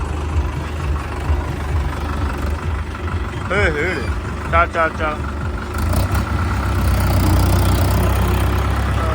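A tractor engine idles with a steady low rumble that runs through the whole stretch, sitting under nearby voices shouting and talking.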